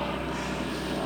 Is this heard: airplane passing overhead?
yes